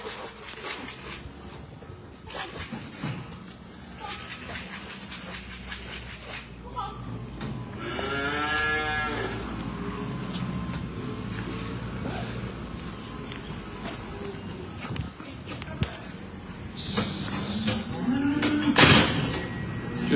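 A stubborn cow being led out near her pen gives loud, close moos, one long drawn-out call midway and another later, amid rustling and outdoor background noise.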